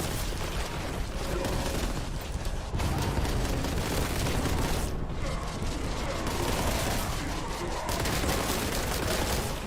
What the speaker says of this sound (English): Dude shooting in my back